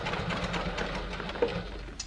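A sewing machine stitches a tote bag seam with the needle kept down, giving a faint, continuous rapid whirring throughout, with no speech.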